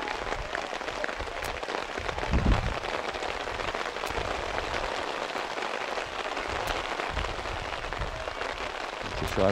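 Heavy rain drums steadily on umbrellas overhead at a night girls' soccer game, a dense continuous patter with occasional louder splats, fairly close.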